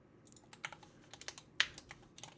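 A computer keyboard clicks out a folder name in quick, uneven keystrokes, close and fairly quiet, with one sharper key strike midway and no talking.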